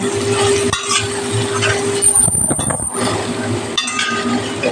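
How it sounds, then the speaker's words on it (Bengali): Pointed gourd (potol) pieces frying in oil in a pan with cinnamon for a vegetarian doi potol curry, a steady sizzle with stirring scrapes and a few metallic clinks close by. "পটলগুলো দিয়ে দিচ্ছি পটলগুলো ভাজা ভাজা করে নেবো"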